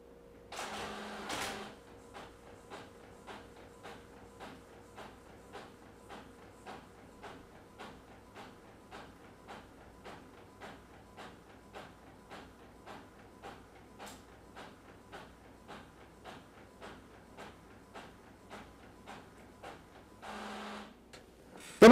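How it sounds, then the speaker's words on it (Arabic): A printer prints a card, its print head sweeping back and forth in a steady run of evenly spaced clicks and whirs, with louder paper-feed mechanism noises at the start and end. "راح أصور لكم الآن وهي تطبع الطابعة"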